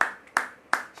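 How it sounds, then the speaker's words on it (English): A congregation claps hands at a church service, three sharp, evenly spaced claps in a steady rhythm, close and distinct with short gaps between them. "Clap your hands"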